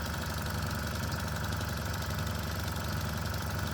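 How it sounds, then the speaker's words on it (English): An old Burnac Vulcan stationary engine runs on compressed air, a steady rhythmic knocking chug with repeated puffs of air escaping from a cylinder, heard close and continuous. "A little burst of air coming out, but not so much on that side."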